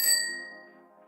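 Notification bell sound effect: a single bright metallic ding struck once, close and clear, then ringing out and fading smoothly over about a second with no other sound around it.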